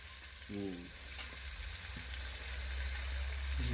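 Whole eggplants frying in a pan for a sev and brinjal curry, giving a steady, close sizzling hiss that runs throughout, with a brief voice near the start.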